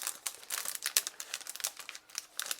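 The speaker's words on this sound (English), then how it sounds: "grab that little tab and peel it right off the sheet like this" A foil lid is peeled off a sheet for a stainless steel reusable espresso capsule, a close, quiet stretch of crisp crinkling and light tearing rustles lasting a couple of seconds.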